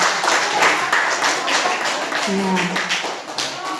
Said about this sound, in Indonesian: Tepuk tangan dulu untuk sekolah kita.